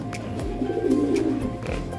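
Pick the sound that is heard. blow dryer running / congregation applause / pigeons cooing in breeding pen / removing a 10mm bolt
pigeons cooing in breeding pen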